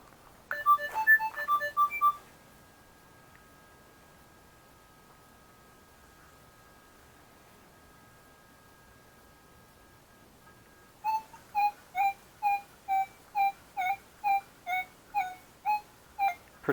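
A metal detector, an Equinox 800 or CTX 3030, sounds a short warbling target tone, then a long faint steady hum, followed by a rapid series of regular beeping pulses.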